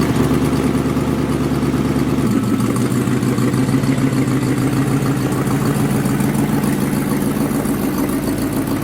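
A car engine idles and runs steadily at close range while a Corvette or Jeep is being moved, with a continuous low rumble and a slight shift in tone partway through; no one speaks.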